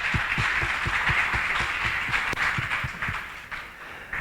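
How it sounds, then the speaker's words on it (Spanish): Applause from a church congregation at a Spanish-language worship service, steady rhythmic clapping held at an even level with a broad wash of hands through the whole stretch, easing slightly toward the end. "Dale un aplauso fuerte al Rey"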